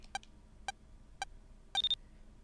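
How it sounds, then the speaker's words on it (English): Four short electronic processing beeps from the video game Mega Man Battle Network 6, evenly spaced about half a second apart, with the last one a slightly longer warbling tone, clear over quiet background. "Beep, beep, beep."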